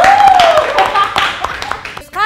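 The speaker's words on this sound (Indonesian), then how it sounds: "Tepuk tangan untuk jawaban mereka." Brief clapping from an audience at an interview event follows a voice, scattered and fairly close, with talking layered over it before it stops abruptly.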